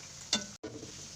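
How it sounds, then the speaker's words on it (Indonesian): Macaroni fries in hot oil in a wok while being stirred, a steady close sizzle with a brief scrape and a short cut in the sound. "makaroninya ini digorengnya sambil diaduk ya, supaya matangnya merata"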